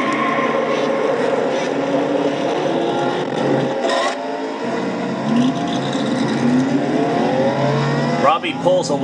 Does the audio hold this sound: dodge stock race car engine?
yes